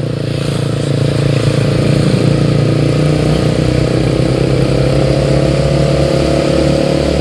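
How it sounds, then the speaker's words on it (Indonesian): A clutch-operated motorbike with a soft, mellow exhaust drones steadily nearby in traffic, a loud continuous engine sound from the road with no talking. "Bunyi knalpotnya lumayan empuk sih kayak."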